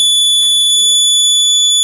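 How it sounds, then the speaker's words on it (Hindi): An anti-theft trip wire alarm shrills loudly and continuously right after its wire is cut, a piercing steady electronic tone with faint talk beneath it. "और ये ट्रिप वायर अलार्म है।"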